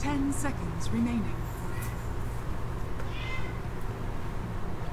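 A cat meows twice in quick succession amid the din of a Dota 2 esports broadcast, with a commentator's voice and crowd noise running underneath.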